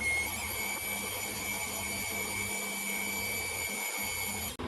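A milling machine fly cuts a light pass along one side of a metal part, giving a steady whining hum with a high tonal ring that runs unbroken before stopping abruptly.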